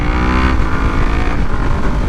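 Kawasaki Ninja 400 sport bike fitted with a Yoshimura exhaust, its engine droning loudly and evenly up close with a brief shift in tone partway through, no talking over it.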